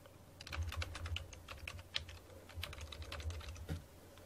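Fingers tap out a password on a computer keyboard during a Linux Mint install, a quick close series of light clicking keystrokes with a faint steady hum underneath.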